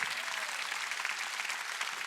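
A church congregation claps together at a Sunday gathering in a large arena hall, the steady dense clapping filling the room at moderate level with no voice above it.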